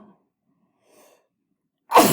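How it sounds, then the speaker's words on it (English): A single sudden sneeze bursts out loud and close after a moment of near silence. "I think I'm going to sneeze too."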